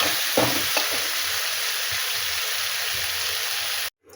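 Tomatoes are stirred into a fish curry of rohu with kohlrabi and eggplant in a frying pan, giving a continuous close sizzle with soft scraping stirs before it cuts off abruptly near the end.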